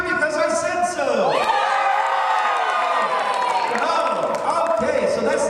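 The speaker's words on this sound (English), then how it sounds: "And now you're just going to cheer because I said so." A convention panel audience at Tekko 2014 cheers and shouts together in a sustained, loud crowd roar that fills the whole stretch, with voices of individual whoops rising above it.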